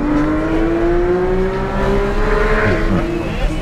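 A supercar's engine accelerates hard out of a right turn on a race track, its loud, close, rising whine climbing in pitch, then dipping with a gear change and pulling on.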